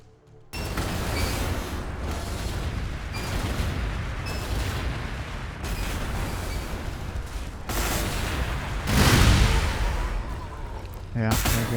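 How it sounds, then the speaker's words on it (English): Bombs burst in the Warhammer 40k Gladius strategy game, a run of loud, rumbling explosions and blasts following one another, with a heavier boom near the end. "Time for more explosions!"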